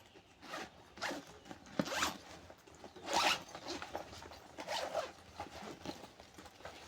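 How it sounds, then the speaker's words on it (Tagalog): Zippers on an expandable travel backpack, opened and closed in a series of quick rasping pulls, about six or seven distinct zips with short pauses between, close and fairly quiet, with no talk. "At marami po siyang zipper."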